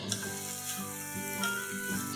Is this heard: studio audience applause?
no